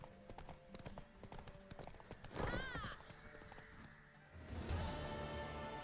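Horse hooves in The Witcher 3 video game, a steady, fairly close clip-clop running throughout, with a brief voice and some background game noise.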